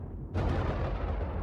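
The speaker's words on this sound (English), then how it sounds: "Flashbang." A flashbang goes off in the video game Aethermancer: a low rumble breaks into a sudden bright blast that keeps roaring loudly for the rest of the moment.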